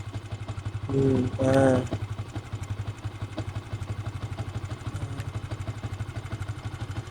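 Motorcycle engine running steadily on a mixed concrete and dirt road up to a mountain base camp, a constant low throbbing drone throughout with a brief spoken word near the start.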